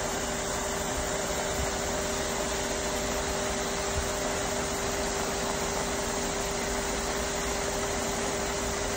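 Blender running continuously while blending a green apple, lemon and basil smoothie with ice, a loud steady whirring drone with a constant tone and no pauses, no speech over it.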